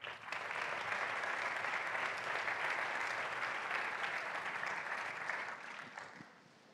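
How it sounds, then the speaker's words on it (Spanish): Sustained applause from a large audience, steady and full for several seconds before fading out at the end. "Un aplauso, por favor, para él."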